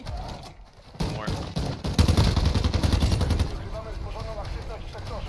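Rapid bursts of gunfire ring out in Call of Duty DMZ during a Halloween event, dense and loud, mixed with other game sounds and a voice talking.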